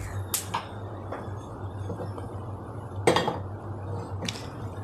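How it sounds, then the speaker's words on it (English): A metal unniyappam pan (chatty) set down on a gas stove, giving a few sharp metallic clanks and clinks spaced apart against a quiet background hum, with no voices. "I have kept the chatty for making unniyappam on the gas"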